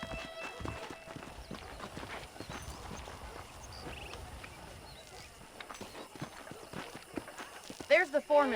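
Horse hooves clip-clop through a Red Dead Redemption game scene, a steady patter of hoofbeats running under spoken dialogue, with a sharper burst of activity near the end.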